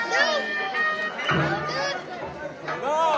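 A large crowd of pilgrims at Jejuri temple fills the air with dense, close chatter and overlapping voices, with a lively hubbub throughout.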